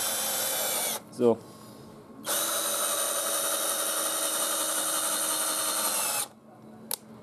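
A cheap DEKO cordless drill drives screws into wood, giving a short burst and then a long steady whine of about four seconds that winds down, with a brief spoken word and quieter gaps between runs.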